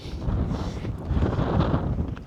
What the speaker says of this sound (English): it is really windy at the moment